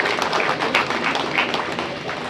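An audience claps steadily through the short stretch, a dense, even patter of many hands at a moderate distance, with no clear voices on top.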